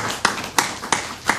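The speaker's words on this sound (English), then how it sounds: "Give them a round of applause." A small studio audience claps on a TV talk show, four distinct, evenly spaced claps over a faint background, fairly quiet and sparse.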